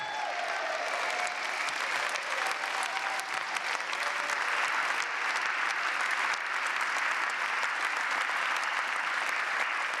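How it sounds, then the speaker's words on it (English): An audience at a squash World Series final applauds the winner Shabana, producing sustained, dense, even clapping that fills the whole stretch without pause. "A round of applause again, please, for Shabana."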